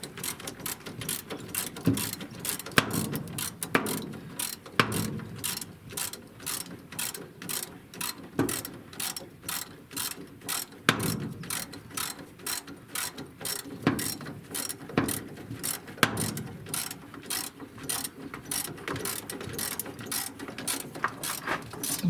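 A ratchet wrench removes a long bolt from the brakes of a Chevrolet C20 truck, clicking rapidly and steadily for over twenty seconds, with occasional heavier clunks.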